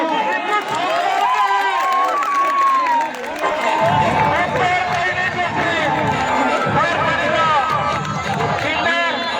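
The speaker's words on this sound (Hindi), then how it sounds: "जोरदार ताली समर्थक" Spectators cheer and clap at a local cricket match after a big hit, a dense, steady wash of crowd noise and applause with shouting voices mixed throughout.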